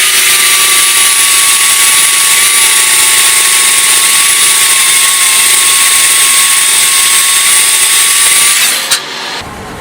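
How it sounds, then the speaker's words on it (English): An electric drill spinning an emblem removal wheel at 600 RPM runs steadily with a loud, high, constant whine for about nine seconds, then winds down and stops. "I keep it at 600 RPMs on this drill motor."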